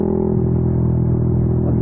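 A motorcycle fitted with a WRX Trioval K2 aftermarket exhaust runs loud and close, giving a steady, throaty engine drone with a rich rumble that holds throughout.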